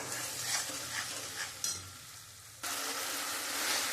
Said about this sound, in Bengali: মশলাটা দিয়ে আমি খুব সুন্দর করে কষিয়ে নেব